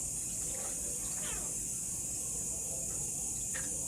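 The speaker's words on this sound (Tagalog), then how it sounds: "Ito isagol ang tubig sa sugar." Water pours steadily into sugar for strawberry tanghulu syrup, with a constant hissing splash, faint clinks and small movements over the flow.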